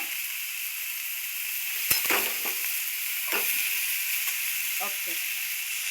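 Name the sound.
cluster beans (guar) frying in masala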